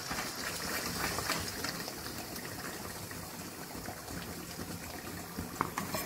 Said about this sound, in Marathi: तेलामध्ये आता ही चांगली फ्राय करून घ्यायची आहे।